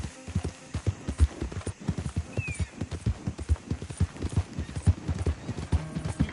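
Hooves pound in a fast, steady galloping rhythm as a horse runs in the Red Dead Redemption 2 video game, the beats close and distinct throughout with a brief faint whinny-like tone partway through.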